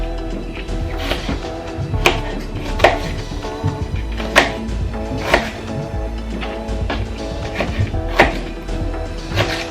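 A knife cuts ginger on a board in a kitchen. Roughly eight firm, separate thunks land every second or so over a low background hum, with no talk.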